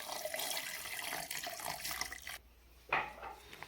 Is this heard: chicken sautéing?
no